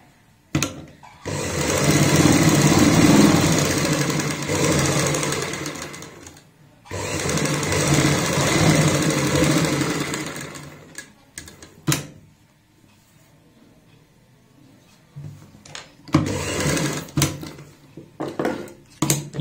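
A sewing machine stitches a sleeve in two long loud bursts of steady whirring running, separated by a short pause, then trails off into sparse clicks and handling knocks near the end.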